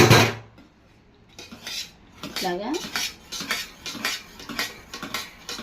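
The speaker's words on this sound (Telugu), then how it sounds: "పప్పు ఉడికిపోయింది మెత్తగా ఉడికింది దీన్ని మెదిపేసుకోవాలి" A spoon mashes soft-cooked dal in a metal pot, making a rhythmic run of scraping clinks and knocks against the pot, close and clear, after a short pause and a brief spoken word.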